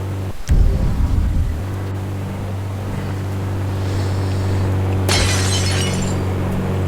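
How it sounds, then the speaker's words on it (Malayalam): Glass shatters in the Indian Bikes Driving 3D mobile game, a sharp crash at the start followed by a bright splintering burst later, over a steady low engine hum. "glass test"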